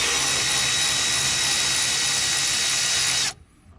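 A power tool whines steadily and loudly while undoing the silver inner strut tower bolts on a 2022 Ford Maverick, holding one sustained high-pitched run before stopping abruptly near the end.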